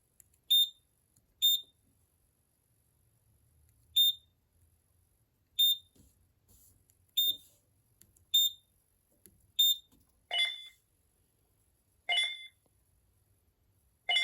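A series of sharp, high electronic beeps from a Simplex 4007ES fire alarm panel pulsing at irregular intervals after a walk test, each short and clear against near silence, with a few closing tones sounding slightly different.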